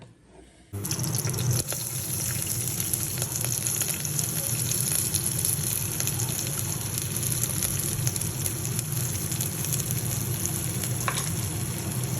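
Tempering for kadhi pakoda crackles into a hot pan, bursting into loud, steady sizzling that continues close up with faint stirring noises.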